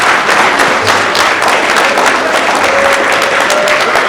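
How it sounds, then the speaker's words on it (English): A conference audience at the NABF 2020 gathering in Tampa, Florida, applauds Peter Obi with a dense, continuous roar of clapping that stays loud and steady throughout, with no clear voices. "Let's give him a round of applause."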